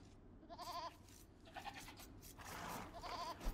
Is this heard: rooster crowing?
no